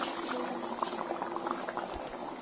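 Tomato curry bubbling in a pan on the stove, a continuous soft simmering patter of small bursting bubbles, close and fairly quiet, with no voices.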